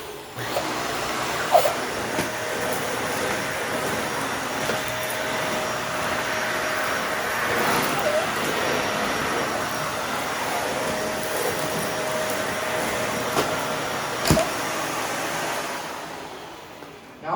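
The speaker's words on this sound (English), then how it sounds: "I'm just going to use the Dyson to clean all this up." A Dyson vacuum cleaner runs with a steady whirring roar throughout a long cleanup, with occasional clicks and bumps of the machine over the floor.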